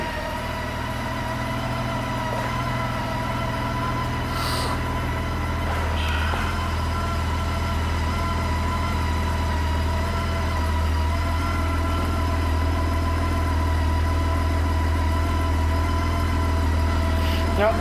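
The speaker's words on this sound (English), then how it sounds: "Starts right up and just idles like a champ." A 2007 Honda Goldwing GL18P touring motorcycle idles smoothly and steadily, a constant low engine hum close by with faint background noise throughout.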